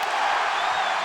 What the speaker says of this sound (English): What a roar from this Sold out crowd